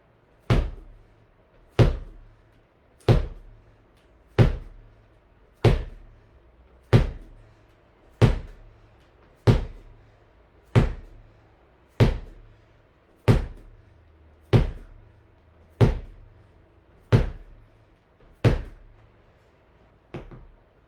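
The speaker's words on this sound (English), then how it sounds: "15 wall slams or ball slams." Sixteen heavy thuds land at a steady pace about every 1.3 seconds as a medicine ball is slammed during a full-body workout, each impact sharp and close with a short decay, no talking.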